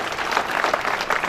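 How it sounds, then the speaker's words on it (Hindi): Brief burst of enthusiastic applause from a crowd at a police constable passing-out parade, dense clapping throughout. "इनको जोरदार तालियां बजाइए।"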